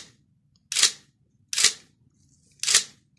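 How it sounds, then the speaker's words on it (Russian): Nikon D700 camera with its mirror mechanism under repair fires its shutter three times, each a sharp, close mechanical clack spaced about a second apart with quiet between. "Затвор пробегает."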